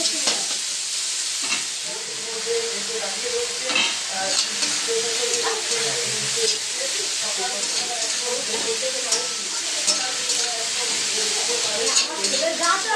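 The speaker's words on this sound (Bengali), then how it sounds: "আমি পেঁয়াজটাকে ভেজে নেবো" Onion fries in a pan, giving a steady bright sizzle with scattered stirring scrapes throughout, close and continuous, with a voice speaking over it.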